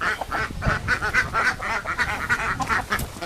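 Khaki Campbell laying ducks, part of a 700-bird flock on a small farm, quack steadily in a busy, overlapping chorus of many close calls with no talking.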